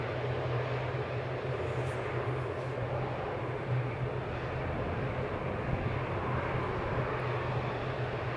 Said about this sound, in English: there's one plane taking off right now